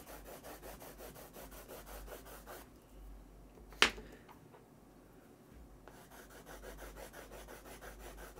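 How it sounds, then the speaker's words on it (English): Watercolour crayons scratch across paper in quick rhythmic back-and-forth strokes, close but quiet, pausing briefly mid-way around a single sharp tap before the scratchy coloring resumes. "These just feel so scratchy to color with."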